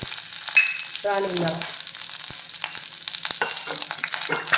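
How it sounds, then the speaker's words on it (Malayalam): Half a teaspoon of mustard seeds and curry leaves hit hot oil, bursting into a loud, close crackling sizzle with rapid spitting pops that settle into a dense, steady fry. "ഒരു 1/2 ടീസ്പൂൺ കടുക് ഇട്ട് കൊടുക്കുന്നു. കുറച്ച് കറിവേപ്പിലയും കൂടെ ഇട്ട് കൊടുക്കുന്നു."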